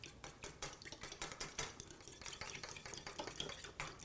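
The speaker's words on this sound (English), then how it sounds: "Just kind of loosely mix it together right now." Spoon scraping and clinking in a bowl as oil, salt and cracked black pepper dressing is tossed through a lentil salad, a quick, irregular run of close clatters and wet stirring with no talk.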